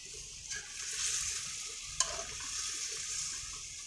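Chicken karahi with tomatoes being stirred in a pan, a soft continuous sizzle with gentle scraping strokes and one sharper clink of the spoon against the pan, heard up close with no talk.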